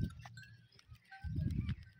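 Village goats among sand dunes in the morning, with a couple of short low bleats, close and moderately quiet, separated by a brief pause.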